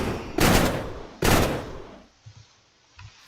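Two loud bursts of rapid automatic fire from a Tommy-gun-style weapon in the Minecraft Create: Love and War mod, each about a second long, followed by faint clicks and quiet after a short gap.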